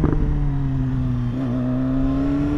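A 2015 BMW S1000RR engine running smoothly with a steady, even tone that shifts pitch once midway as the bike drops a gear, heard close and fairly loud.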